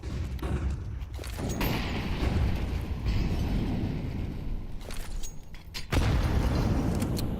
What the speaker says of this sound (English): Nice nade.